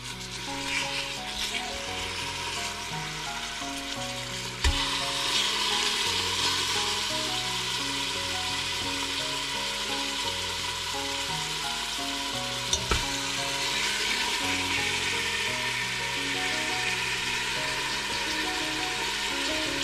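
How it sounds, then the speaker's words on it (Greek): Meat searing in a pot over medium heat for a Greek braised beef with orzo, a loud steady sizzle lasting throughout with a couple of sharp knocks from stirring and no voices. "Πάμε να χαμηλώσουμε τη θερμοκρασία στο μισό και να σοτάρουμε το κρέας για να το θωρακίσουμε από όλες τις πλευρές."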